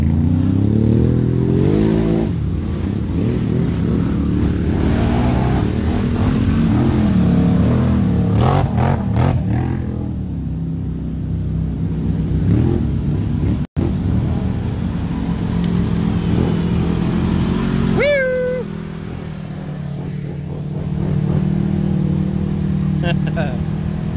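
ATV engines rev and rumble at the 2019 Foxford ATV rally, sustained and fairly loud with rising and falling pitch, mixed with crowd noise and voices around the track.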